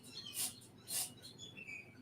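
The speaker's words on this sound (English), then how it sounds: "I do hear some birds in the background." Faint high chirps of birds in the background, two brighter calls close together followed by softer twittering, all quiet and distant.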